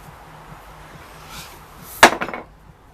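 A hammer strikes a motorcycle swingarm once, a sharp metallic clank near the end with a few quick ringing rebounds, after a quiet workshop stretch with faint low hum.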